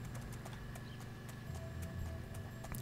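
Horse hooves clip-clop at a steady trotting rhythm in the riding-stable video game Abenteuer auf dem Reiterhof 3. The game audio is soft and continuous, with quiet background sound under the hoofbeats.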